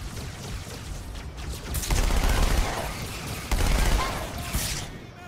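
Gunfire in Halo 2 on PC during the Delta Halo mission, bursts of rapid automatic shots and heavier booming blasts swelling and fading over several seconds, fairly loud and continuous with no voices.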